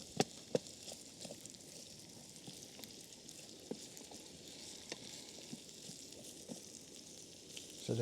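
Paneer curry ingredients frying in a pan on a Trangia camping stove outdoors give a steady soft sizzle, broken by sharp pops and spits of fat scattered throughout at moderate distance.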